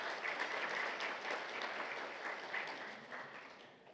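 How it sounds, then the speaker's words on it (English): A conference audience applauds faculty supervisors with steady, moderately distant clapping from a full room that slowly fades toward the end. "I'd like to give a round of applause to the supervisors that are here, the faculty members"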